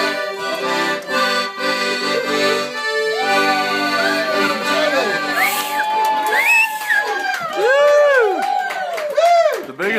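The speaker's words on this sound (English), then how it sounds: "The biggest applause." After an accordion song at a live show, the crowd cheers with rising whoops and excited shouts, building loudly over a few seconds while lingering instrument tones fade underneath.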